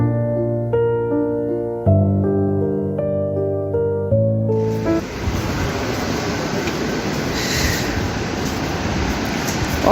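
Rushing water at Bhimkund waterfall in Keonjhar, Odisha, a steady broadband roar that rises to full strength partway through and then holds loud, following a stretch of sustained tonal sound at the start.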